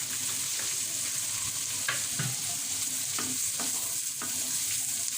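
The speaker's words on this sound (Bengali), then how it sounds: "এরপরে আবারও আমরা সমস্ত কিছু একসাথে নেড়ে নিব" A spoon stirs chopped potato, carrot and cucumber in a hot frying pan, with a steady sizzle broken by repeated scraping knocks and clatters at an irregular pace, close and fairly loud.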